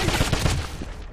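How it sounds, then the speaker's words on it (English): Suppressing gunfire in the Wolfenstein shooter game: a short, dense burst of rapid shots close by, quickly fading. "I want suppressing fire!"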